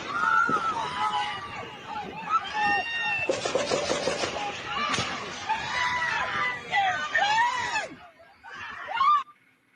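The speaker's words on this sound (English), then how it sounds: "lot of screaming." Several people scream and shriek in a crowd amid chaotic babble, the high cries rising and falling for most of the stretch before a short pause and one last loud burst.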